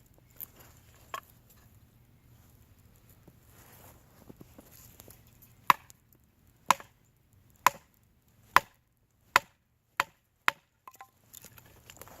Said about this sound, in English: we'll make a notch with it